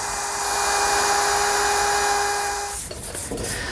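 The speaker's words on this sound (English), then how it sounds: "To take care of the top and bottom edges of the butcher block, I'm simply using a 1/4" radius round over bit." A router fitted with a 1/4 inch round over bit shapes the edges of a butcher block top, a loud steady high whine with a grinding cutting hiss that cuts off near the end.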